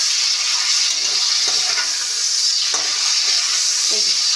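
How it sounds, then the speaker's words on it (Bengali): Beans frying in a pan give a steady, loud sizzling hiss throughout, with a few soft stirring scrapes and clinks along the way and no voices. "এই শিমগুলো ভেজে নিচ্ছি।"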